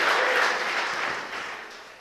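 A church audience at a worship service applauds, a loud, full burst of crowd clapping that starts strong and gradually fades over a couple of seconds, with no voices on top.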